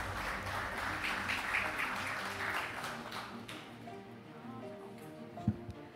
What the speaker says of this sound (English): A round of applause, ladies and gentlemen, for our moderator.